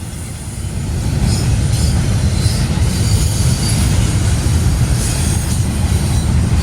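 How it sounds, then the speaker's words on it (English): A Norfolk Southern freight train rolls past in Berea, Ohio, a loud, steady rumble of wheels and railcars close by, with occasional squeals and clatter and no voices. "This was the last NS train that I got for the day"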